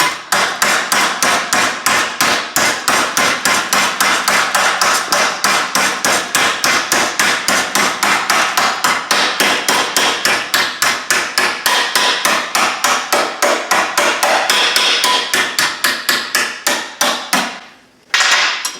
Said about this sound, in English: I'm gonna tap it over.